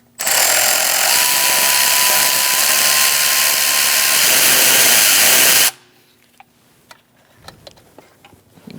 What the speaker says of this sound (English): Now we're going to undo this with a T25 Torx.